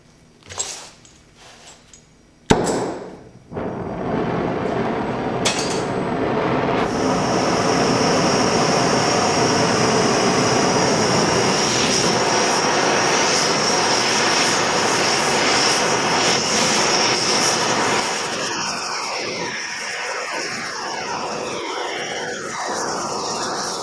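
An oxy-fuel torch roars steadily and loudly, heating a steel bar before it is twisted into a reverse-twist keychain, with a few sharp knocks at the start and a flickering hiss near the end.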